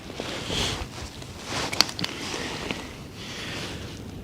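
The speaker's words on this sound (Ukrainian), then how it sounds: "Вітер посилюється." Steady broadband rushing and buffeting of wind across a microphone, rising and falling in gusts, with a few small knocks and clicks, while fishing outdoors.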